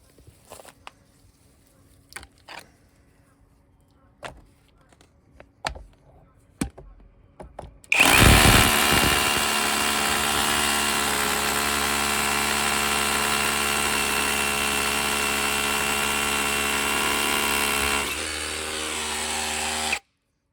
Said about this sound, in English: we're going to do a couple of shots drilling in some concrete